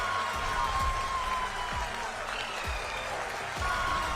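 Staff at the ISRO telemetry tracking centre in Bengaluru applaud and cheer the Chandrayaan mission with steady crowd clapping. Low thumps and tonal sounds are mixed in.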